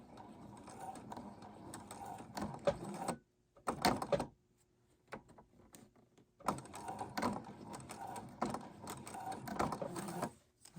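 A sewing machine stitches slowly over the thick triple seams of a pant hem, running in bursts of quiet mechanical whirring and clicking separated by short pauses.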